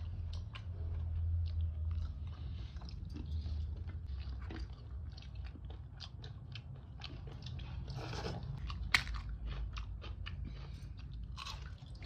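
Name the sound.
crunching chips with mixture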